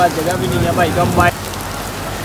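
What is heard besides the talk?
rain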